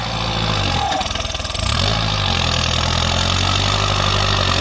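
A Kubota L5018 turbo tractor engine in second gear holds a loud, steady rev, dipping briefly and then climbing back to a sustained drone close by.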